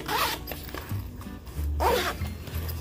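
Zippers on a freshly unboxed item from an Amazon order are opened and closed in quick rasping strokes, close to the microphone, with brief pauses and soft handling noise between the pulls.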